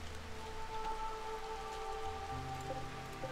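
Steady rain falls in the colony-management game RimWorld, a continuous even patter that fills the whole stretch, with faint tonal game music running beneath it and no talk.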